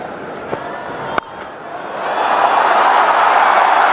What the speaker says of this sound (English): And finally we hear something from this crowd.